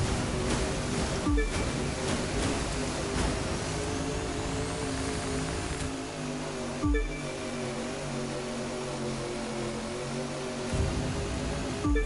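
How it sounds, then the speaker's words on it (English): Waves washing around a racing powerboat in The Crew 2, a steady broadband rush of water and surf over the boat's engine drone, with sharp slaps as the hull hits the waves. "So here come the waves."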